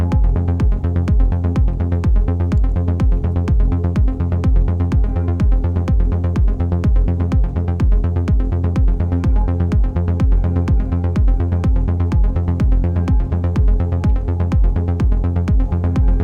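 A synth pluck repeating in a steady fast rhythm, its filter frequency swept by an envelope so each note snaps bright and quickly closes, loud and continuous with no voices.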